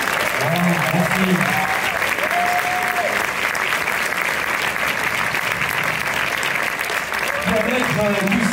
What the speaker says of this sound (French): Alors on applaudit.